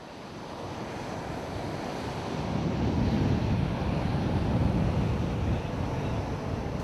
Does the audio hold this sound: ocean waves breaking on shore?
yes